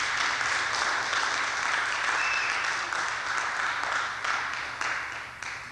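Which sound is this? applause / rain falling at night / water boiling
applause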